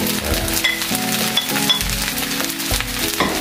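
Fried rice with shrimp and petai sizzles loudly in a pan as sliced cabbage, green chili and mustard greens go in, a steady hiss broken by stirring scrapes and light clinks.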